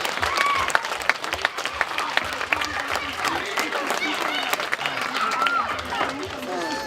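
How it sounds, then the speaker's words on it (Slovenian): An audience applauds Slovenian slalom medals at a live welcome reception, with steady, dense clapping filling the space and a few voices and calls mixed in. "Lahko jim zaploskate"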